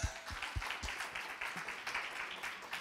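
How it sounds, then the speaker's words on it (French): Audience applause at an SEO conference in Paris, many hands clapping in a steady faint wash, with a few louder thumps near the start. "On l'applaudit."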